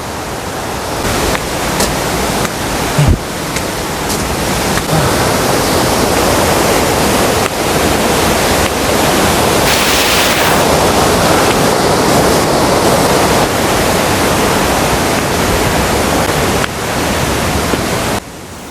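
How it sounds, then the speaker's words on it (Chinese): Waterfall in a forest recreation area roars loudly and continuously, a broad rushing wash with occasional clicks and knocks from nearby movement, no talking. "下面是处女瀑布，前面是满月圆瀑布。"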